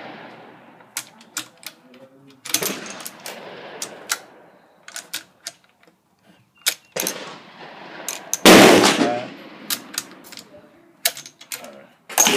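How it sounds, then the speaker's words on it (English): Chinese Type 53 rifle fired at a range: a string of sharp, close cracks and clicks of the action, with one especially loud, booming shot near the end and brief speech in between. "He's going to be shooting his Chinese Type 53."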